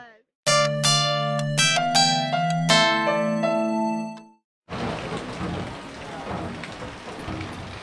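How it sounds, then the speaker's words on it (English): Several seconds of ringing tonal notes give way to steady rain falling in Port Antonio, Jamaica, a close, even hiss of drops on surfaces. "it's pure rain. It's raining"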